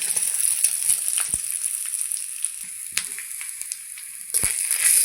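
Banana flower frying with grated coconut in a pan for a vegetarian dish, a bright continuous sizzle punctuated by a few sharp taps and scrapes of the spatula.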